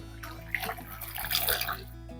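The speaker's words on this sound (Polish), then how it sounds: "Zacznę od przygotowania galaretek, które rozpuszczę w 300 ml gorącej wody." 300 ml of hot water poured over jelly crystals to dissolve them for a no-bake cheesecake, a close splashing pour that swells in the middle and then tapers off over a steady low hum.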